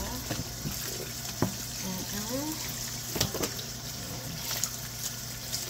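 Tap water runs steadily into a kitchen sink while meat is rinsed and scrubbed, with splashing and clattering bursts over the flow and a voice talking over it.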